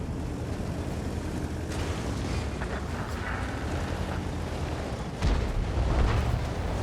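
In World of Tanks, the gun of a Progetto CC55 mod. 54 fires its third shell, heard as a heavy blast over a constant rumbling battle background, with a louder low thump near the end.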